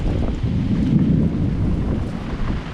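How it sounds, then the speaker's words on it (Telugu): Thunder rumbling through heavy rain while camping in a tree, a deep, sustained low roll swelling in the middle over a constant hiss of rainfall. "మొత్తం ఉరుముతుంది ఘోరంగా."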